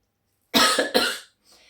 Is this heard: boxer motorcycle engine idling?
no